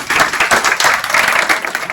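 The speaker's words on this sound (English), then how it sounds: "I think it's probably due for a round of applause" Applause for teachers at Mark Hall Academy on Thank a Teacher Day: a short burst of dense, steady clapping from a group, fairly loud and close, with no talk over it.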